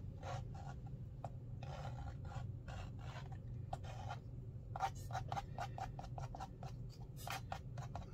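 Short, repeated rasping scrapes of a tool lifting wet paint from watercolor paper, a loose rhythm of quiet strokes close by that quicken toward the end over a faint background hum.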